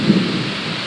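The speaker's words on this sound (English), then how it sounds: "we have a tropical storm dumping a bunch of water on us" A tropical storm pours heavy rain with a low rumble of thunder, a brief, steady, dense roar of downpour that fills the whole moment.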